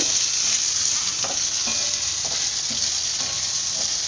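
Medium-sized tomato sautéing in a pan for a Sankara fish curry masala, giving a continuous close, bright sizzle with occasional soft clicks of stirring, heard alone without talk.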